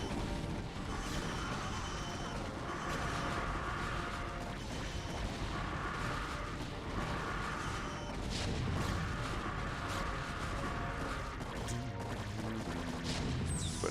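Siege tanks firing in a StarCraft: Brood War team battle: a dense, continuous stretch of repeated booming cannon blasts and crashing explosions, layered and rhythmic, fairly quiet in the mix with no voices over them.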